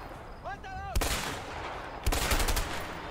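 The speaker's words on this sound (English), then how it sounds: "Now they start shooting at me." Enemies open fire in the video game A Way Out: after a brief whistling tone, two loud bursts of rapid gunshots crash in, each ringing out into a dense rattling volley.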